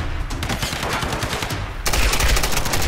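Rapid automatic gunfire from a firefight in the 2013 Tomb Raider video game, dense and loud bursts running continuously, swelling into a heavier burst near the end.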